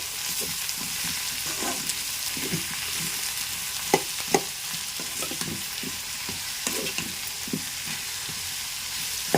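Dosakaya and drumstick curry with salt and chili being stirred in a pan, a continuous sizzle broken by repeated scraping and knocking strokes of the spoon, close and clear, with no voices.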